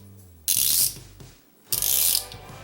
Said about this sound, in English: upgrade the freewheel of my Street Trials bike with this GT1 that has a ratchet with 180 clicks